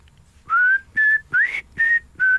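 Clear whistling from a song, five short melodic whistled notes in a steady rhythm, close and prominent with nothing else around them.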